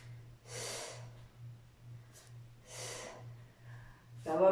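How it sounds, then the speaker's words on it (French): A person breathes deeply in and out while doing gentle back-waking exercise, two long airy breaths standing out over a steady low hum, followed by a sharper intake at the end. "Inspire et expire."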